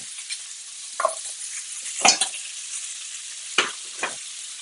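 Food sears hard in a hot pan, a bright close sizzle carrying several short bursts of stirring and scraping, with quieter pauses between them.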